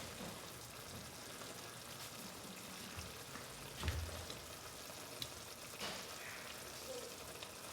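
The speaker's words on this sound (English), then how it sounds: "If you give yours a little stir, I'm gonna give mine a little stir too." Oyakodon simmering in a pan gives a soft, steady bubbling hiss, with a light scrape of stirring partway through and quiet kitchen background, no talk.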